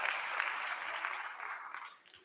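An audience at a Board of Education event applauds in a steady wash of clapping that holds at a moderate level, then thins out and fades near the end.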